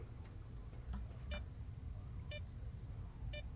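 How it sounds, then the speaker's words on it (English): A Geiger counter-like detector near an anomaly in the STALKER video game gives short electronic beeps about once a second, faint and evenly spaced over a low rumbling ambience. "getting close to them causes a sort of a Geiger counter-like beep to start"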